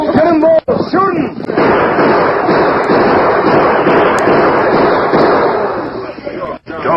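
Gunfire in an old-time Western radio drama, a dense, loud burst of shots and reverberant blasts over shouting voices and background noise.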